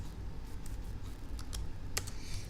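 A few sparse keystrokes clack on a computer keyboard, close and light, over a low steady background hum.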